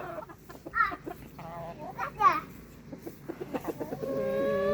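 A small black and white backyard hen clucks close by while being caught in a garden. She lets out several short, squawky bursts, and the sound settles into a steadier call at the end.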